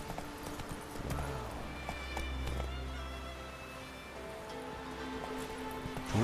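Hooves of a galloping horse in The Witcher III beat in a quick steady clip-clop rhythm, moderately near and continuous, over low background ambience with no talk.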